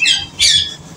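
Pet doves or finches squawk in two loud, shrill bursts close by, the second starting just under halfway through, with no talking.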